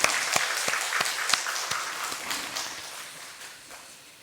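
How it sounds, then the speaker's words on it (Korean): A church congregation applauds after the choir's praise. Sustained, fairly distant clapping fills the room, with louder individual claps standing out early on, and it gradually fades. "우리 큰 박수 한번 하겠습니다"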